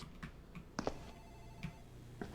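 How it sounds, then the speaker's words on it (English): An office telephone rings in a scary video game, faint repeated trilling bursts in a quiet room with scattered clicks and knocks around them. "It's the phone in the office ringing."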